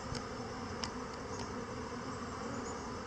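Honeybees buzzing during a sugar-dusting varroa mite check, a continuous close hum of many bees with a few individual bees droning past, no talk.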